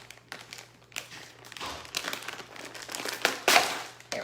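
A plastic package of frozen seasoning herbs being cut open, with continuous close crinkling and rustling of the packaging and a few sharper crackles.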